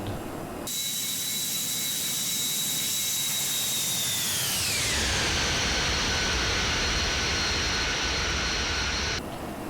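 A jet airliner's engines roar steadily during the climb in the X-Plane 11 flight simulator, a loud continuous whine whose high tone sweeps downward midway and then holds.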